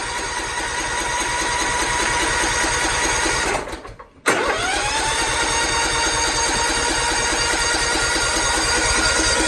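An old motorcycle or riding mower engine runs after a cold start, a loud steady idle with a rapid even beat. It cuts out briefly, then catches again and keeps running.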